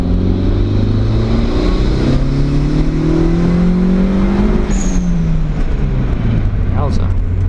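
A Honda CRX accelerates hard on a road in Midrand, Johannesburg, its engine note climbing and dropping through gear changes, loud and close throughout, with a brief high squeal partway through.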